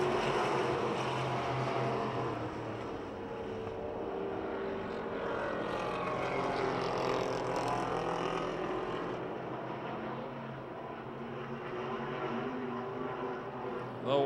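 Race cars lapping the Pennsylvania Motor Speedway oval in Pittsburgh, a continuous layered engine roar that rises and falls as the pack circles, heard from a distance and fairly faint.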